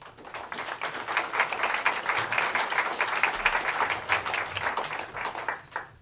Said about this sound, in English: hope we could welcome him with a nice round of applause